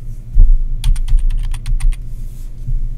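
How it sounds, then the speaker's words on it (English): Fingers typing on a computer keyboard, a quick burst of about ten close key clicks in a row, set against a low background hum. "And you would go ahead and you can start typing in"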